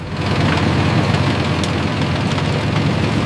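Sugarcane harvester and tractor engines run together in a field, giving a loud, steady, low diesel drone that holds without a break and has no voices over it.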